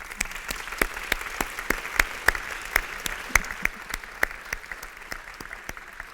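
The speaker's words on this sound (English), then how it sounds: "I think that deserves a round of applause before we go on." A small audience at a public lecture in the Welsh Assembly gives light applause, sparse individual claps ringing out clearly at a moderate, uneven rhythm over a soft background.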